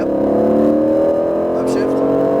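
Aston Martin Vantage engine pulling hard at full throttle on a track, a loud, rising in-car engine whine climbing steadily in pitch, with a brief higher-pitched sound near the end.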